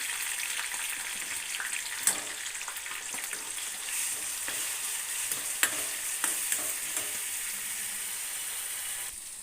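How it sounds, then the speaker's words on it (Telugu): Onion paste frying in hot oil with green chilies and curry leaves, a steady close sizzle with occasional sharp clicks of stirring, no voices. "ఇక్కడ ఉల్లిపాయ వేగుతుంది"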